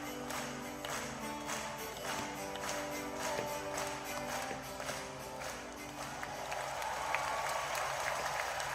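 An audience at a concert claps in a steady, moderately distant patter that carries on throughout over faint music.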